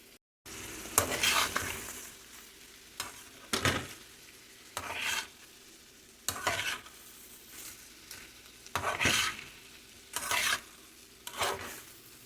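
Rice being stirred into fried vegetables in a pan for veg fried rice: rhythmic bursts of scraping and light sizzle about every two seconds, close and fairly loud, over a low background hum, with no talking.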